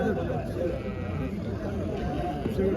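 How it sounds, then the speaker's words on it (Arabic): Sheep bleat amid the steady crowd chatter of a busy livestock market before Eid, with occasional bleats rising over the constant babble of voices and bargaining. "خروف غليظ تبارك الله"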